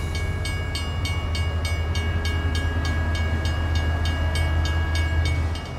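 A train sound effect for a Bengali radio drama scene at Kamalapur railway station: a steady low rumble with an even clickety-clack rhythm of wheels on rail joints, close and loud, with no voices.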